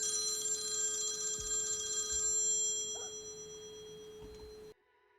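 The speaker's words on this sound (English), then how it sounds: "One sec, folks. Incoming phone call." An incoming phone call rings during a Minecraft session, heard as steady electronic ring tones that hold for several seconds, then cut off abruptly.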